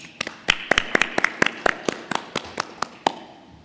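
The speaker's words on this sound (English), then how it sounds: "Let's have a round of applause for Jennifer" Scattered, sparse claps at an awards ceremony, sharp individual claps in a loose irregular rhythm rather than a full crowd ovation, moderately loud and alone.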